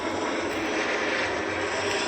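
A fixed-wing airplane passes overhead near a dump, its engine roaring loud and steady for the whole short stretch with no voices.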